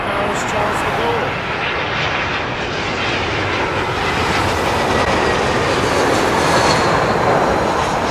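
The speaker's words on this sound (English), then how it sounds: "a British Airways A319 coming in from Paris Charles de Gaulle" British Airways Airbus A319 landing at London Heathrow from Paris Charles de Gaulle, a loud, steady broadband jet roar that holds through the whole stretch, with a voice talking over it.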